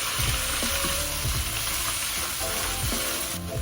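Thai curry base with stock cube sizzles steadily in a pan after a small splash of water, a dense continuous frying hiss with faint clinks of stirring throughout, close and alone.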